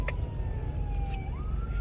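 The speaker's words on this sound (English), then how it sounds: "Sirens be wailing." A police siren wails faintly in the distance, its pitch sliding down then back up, over steady road rumble inside a moving car.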